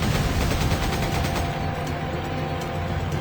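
Rapid, dense machine gun fire in the video game Resident Evil 5, continuous and loud throughout with sharp repeated bursts and a booming low rumble.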